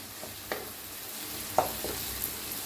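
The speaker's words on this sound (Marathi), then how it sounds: "आता हे छान भाजले बघा मिक्स करूया" Roasted bhel stirred in a pan, a soft continuous dry rustling with faint sizzling and a few light scraping knocks.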